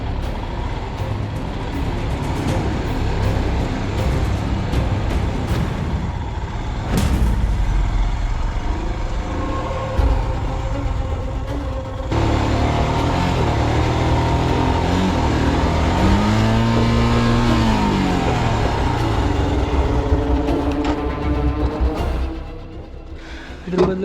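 Royal Enfield Himalayan motorcycle riding off-road on loose soil on a hill trail near Kyathanamakki, Chikkamagaluru, a steady loud engine drone with revs rising and falling throughout and occasional knocks.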